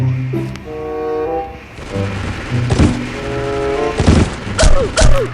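Gunfire in the shooter video game Crisis Action comes as loud, sharp bursts of shots and impacts, mixed with tonal game sound effects and mechanical whirs, recurring several times in quick succession.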